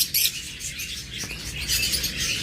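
A creamino budgerigar chirps in quick, bright bursts, fairly close, over a light rustling background with no speech.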